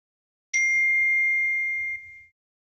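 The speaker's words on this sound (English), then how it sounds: "I heard a ring. Did you hear that? Oh, somebody texted my phone." A phone text-message notification rings once, a bright sustained chime that rings out clearly for under two seconds and fades, alone with only faint background murmur.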